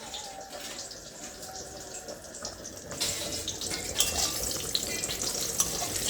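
A child plays with water at night, producing steady running and splashing water like a tap flowing into a basin, moderately close, growing louder and busier about halfway through, with no clear talking over it.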